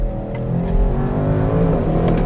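An Audi RS6 C8 pulls hard in second gear, its engine note climbing steadily in pitch as it accelerates, loud and continuous from inside the car with no talking.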